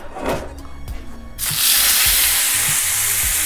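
Suadero beef hits a very hot, oiled pan with a sudden loud burst of searing sizzle. The sizzle stays close and steady after a few seconds of quieter handling knocks.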